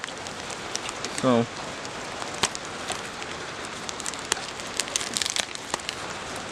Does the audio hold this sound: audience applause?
no